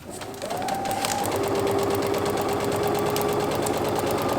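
A sewing machine stitches through fabric and paper in a steady, loud mechanical whir that starts up and runs evenly, close by, with no talking.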